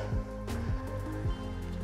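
Rain beginning to fall in the Mourne Mountains of Northern Ireland makes a steady, fairly loud patter outdoors. Low thumps recur every half second or so beneath it.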